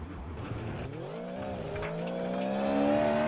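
Race car in a racing video game, spun and slid to warm its tyres, with a continuous rising engine whine and tyre squeal that swells louder toward the end.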